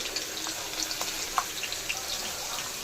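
Potatoes frying in a pan with salt and turmeric: a steady, fine hiss of sizzling oil with scattered small crackles and pops, moderately loud and continuous, no voice.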